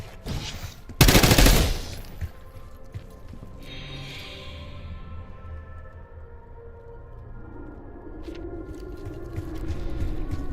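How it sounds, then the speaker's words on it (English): Burst of rapid machine-gun fire in the Call of Duty Black Ops 6 campaign, loud and dense for about a second, then fading into a muffled rumble of game ambience and distant echoes. "You hearing gunfire? Yeah. Sounds like it's coming from one of the lower floors."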